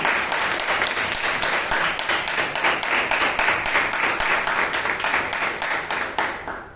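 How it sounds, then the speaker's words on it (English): A Toastmasters club audience in Bangalore applauds a speaker, dense sustained clapping from a roomful of people at steady loudness, tapering slightly at the end, with no speech over it. "Round of applause for Amrit."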